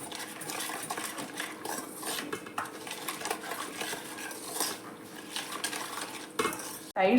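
A spoon stirs cauliflower 65 batter of turmeric, pepper, salt, cumin, Kashmiri chilli and curry leaves with water in a bowl, giving steady close scraping and wet clinking, alone with no talk, ending in a brief louder knock.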